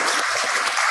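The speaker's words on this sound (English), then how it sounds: "let this meeting end with a huge round of applause for a thoroughly engaging session" A meeting audience gives a round of applause, a dense, even patter of clapping over a brief moment.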